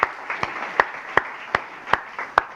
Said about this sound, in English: let's clap for my kids